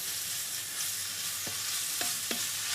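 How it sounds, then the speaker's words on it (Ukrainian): Oil sizzles steadily in a pan as thinly sliced white and red onion fries, a bright, continuous hiss broken by a couple of light scraping stirs toward the end. "І зараз ось так от тоненько нарізану цибулю я кидаю смажити."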